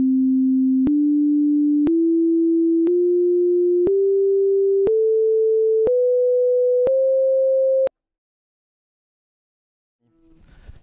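A succession of eight pure sine tones tuned by powers of 3/2 steps upward in pitch, each lasting about a second with a click between, steady and clean, followed by silence.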